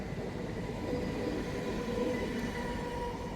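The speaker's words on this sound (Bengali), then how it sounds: "আমাদের ট্রেন দাঁড়িয়ে আছে এখন লিলুয়াতে।" Paharia Express stands at Liluah with no scheduled stop, waiting for a signal; a low steady rumble and hum of the idling train fills the carriage, faint and unbroken.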